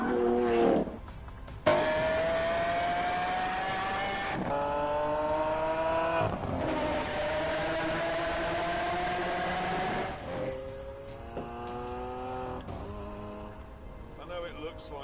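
Supercars including a Rimac race along a road in The Grand Tour video game, engines revving loudly in shifting gears with whining tones and gear changes, close and continuous, with someone talking over them.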